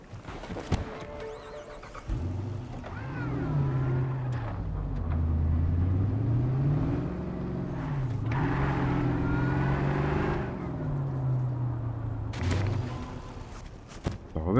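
A car driving through the city in Cyberpunk 2077, with a steady droning engine that rises and falls in pitch over several seconds, loud and continuous.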